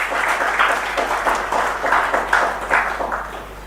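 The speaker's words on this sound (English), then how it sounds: "I would like everybody to give good clapping hands to Dr. J.K. Sharma for his deserving work today." Audience applause at an Indian medical conference honouring a doctor, a steady wash of many hands clapping with gentle surges in intensity, fairly close and continuous throughout.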